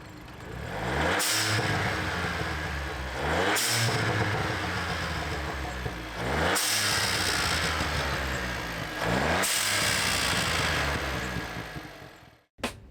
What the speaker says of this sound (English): this is what it sounds like after installing the BOV